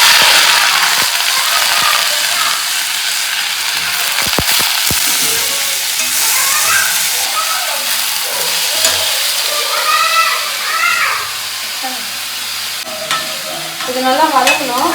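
Onions sauté in hot oil in a home kitchen pan, tempered with cashews and poppy seeds. A continuous sizzle runs throughout, with close scraping stirs and some faint background chatter and squeaks.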